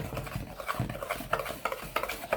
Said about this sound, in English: I'm just going to whisk this. I'm going to whisk this together.